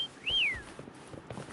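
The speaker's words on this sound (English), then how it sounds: "Try whistling." A single rising-then-falling whistle sounds in a video game, bright and fairly loud, followed by soft footstep-like rustling.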